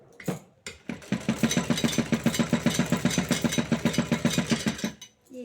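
A domestic sewing machine runs a line of stitching on a blouse, a quick even rhythmic clatter that starts after a couple of short taps and carries steadily for about four seconds before stopping, close up and without speech.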